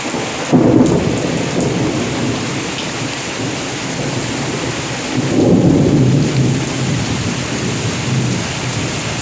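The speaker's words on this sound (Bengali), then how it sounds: "তো এখন দেখো আরো জোরে নেমেছে, আরো জোরে নেমেছে বৃষ্টিটা।" Heavy rain pours down steadily with deep thunder rumbling through it, swelling twice into louder rolls, close and constant with no talk.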